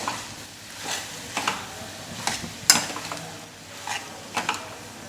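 Boiled potatoes being mixed with onion in a pan with a little oil for an idli stuffing: a steady run of scraping and stirring strokes with faint sizzling, close and fairly quiet.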